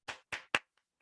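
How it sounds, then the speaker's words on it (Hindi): Three sharp, close hand claps ring out on a Zoom webinar, evenly spaced in quick succession, then two faint, distant taps trail off in near silence. "मैं एक जोरदार ताली चाहूंगा इन शख्स के लिए।"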